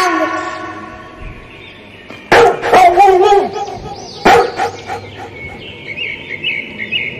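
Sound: dog barking

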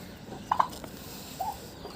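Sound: Cochin hen, a former broody hen, clucking

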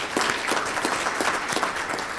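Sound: audience applause at a summit

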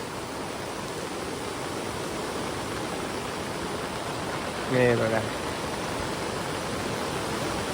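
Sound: rushing flooded river water after two days of rain

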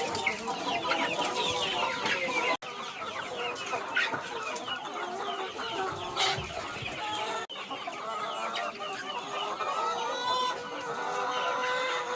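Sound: chickens clucking

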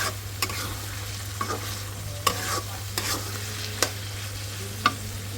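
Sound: sautéing vegetables in a pan

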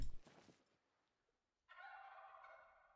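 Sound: turkey gobbling in video game theHunter: Call of the Wild

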